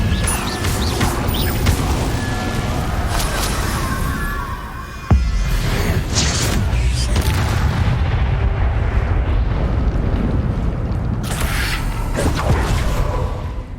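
The Incendio fire spell cast in the Hogwarts Legacy video game: loud, roaring blasts with crackling bursts of fire and a sharp impact midway, continuing as a heavy, sustained rumble.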